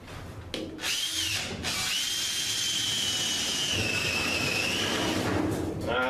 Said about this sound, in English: I got that hole cut or drilled